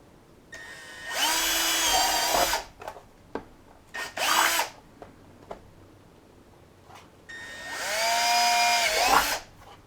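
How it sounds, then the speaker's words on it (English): A power drill boring holes to mount a Mantt windshield on a Suzuki DR650 motorcycle whines up in three close bursts: a long one, a short one, then another long run, with quiet pauses between. "I'm going to drill these holes first and put these in"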